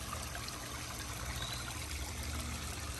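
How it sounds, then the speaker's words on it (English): Water runs continuously through a backyard koi pond filter system, a soft, even trickling and splashing that stays faint and steady throughout, with no one speaking. "as you can see over here, the water is flowing good"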